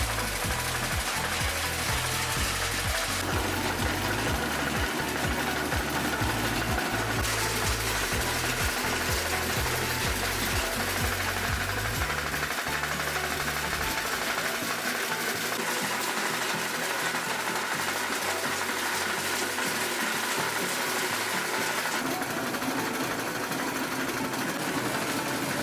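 A fish feed making machine runs continuously, its loud mechanical hum and rapid rattling churn shifting in pitch and texture as the load changes, with no voices over it.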